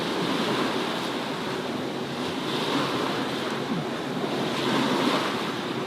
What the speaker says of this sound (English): we're having a little bit of a wind change now, and it's coming out of the east